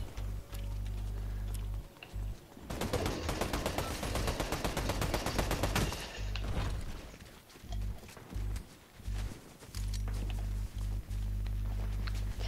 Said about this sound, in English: They're shooting right next to me.